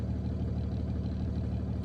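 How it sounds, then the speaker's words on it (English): Truck engine idling with a steady low diesel rumble, close and constant, during an air brake pre-trip inspection. "Start the engine."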